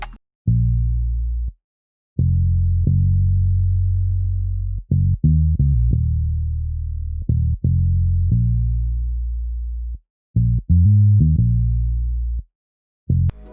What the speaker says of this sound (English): I grabbed this bass from Omnisphere that sounds like this